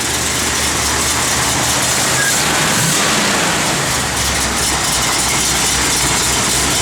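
A loud, continuous 1970 Plymouth Cuda V8 engine with a mild cam idles with a deep, steady rumble and broad hiss, close up and unbroken, with no voices.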